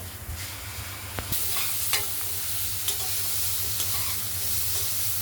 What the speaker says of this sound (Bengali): এমনি করে নাড়া দেবো, আবার ঢেকে দেবো, ভাজা ভাজা হবে।